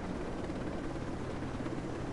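Helicopter rotor drone in the video game Ghost Recon Breakpoint, a steady low thudding rumble that holds evenly throughout at moderate level.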